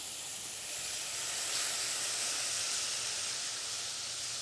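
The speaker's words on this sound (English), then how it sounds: "That's just going to deglaze the pan a little bit, take up all the nice flavor from the pork." Steady, loud hiss and sizzle as liquid hits a hot pan to deglaze it after cooking pork, the steam continuing evenly throughout.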